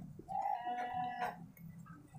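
Goats on a small goat farm, one clear nasal bleat rising over low barnyard noise, a second fainter call trailing after, fairly close.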